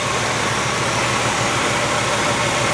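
A freshly built Ford 351M V8 in a 1978 Bronco idles as it warms up to temperature, a steady, dense engine rumble with constant loudness and no talking.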